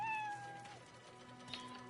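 A cat meows several times in a row, close by and fairly clear, over a low steady background hum with no talking.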